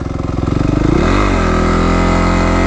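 Dirt bike engine on a ride, a loud close motor with a throttle blip and rising rev before settling into a steady drone.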